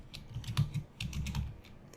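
Quick bursts of typing on a computer keyboard, soft close key taps in a short run with a brief pause in the middle, quiet and alone.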